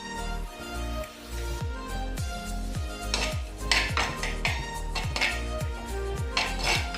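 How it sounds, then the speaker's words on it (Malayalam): Green chillies go into a pan of oil with ginger for an Onam puli inji, bringing steady close-up clatter of a spoon against the pan in a repeating stirring rhythm with a faint sizzle underneath. "ഇതിലേക്ക് പച്ചമുളക് ചേർക്കാം"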